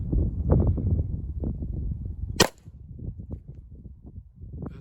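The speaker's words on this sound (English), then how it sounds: "we're going to be shooting full metal jacket primarily" A 9mm full metal jacket round from a Glock 34 Gen 4 strikes a steel plate at close range, one loud ringing clang midway through, set against wind and low rumble outdoors.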